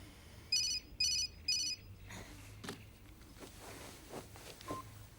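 A phone's message notification ringtone sounds as three short, bright electronic bursts in quick even succession, followed by quiet room noise and soft movement in a TV drama scene.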